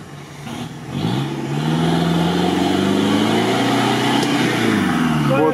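An off-road 4x4 engine on a deep rally special stage, from either a Toyota Land Cruiser LC-70 or a Suzuki Samurai, revs up hard and holds a loud, rising strain for several seconds, close by, with faint voices in the background.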